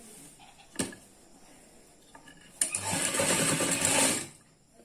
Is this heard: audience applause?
no